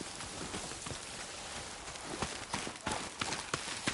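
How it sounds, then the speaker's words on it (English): Horse hooves clip-clop faintly in Ghost of Yotei, a soft irregular patter of steps over a quiet ambient bed, growing a little more distinct toward the end. "That must be their horse."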